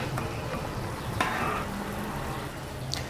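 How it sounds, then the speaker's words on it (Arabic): Pasta being stirred in a frying pan as it cooks toward a sauce, a soft continuous sizzle with light scraping strokes and an occasional faint clink of the utensil, no talking. "أهم حاجة التقليب يا جماعة عشان مش ينعجن مني"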